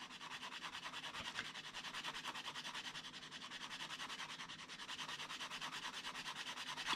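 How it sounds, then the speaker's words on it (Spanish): Sandpaper rubs back and forth over a burr on a plastic model kit part, a close, quiet, rhythmic scratchy rasp repeating evenly throughout. "Vamos a lijar."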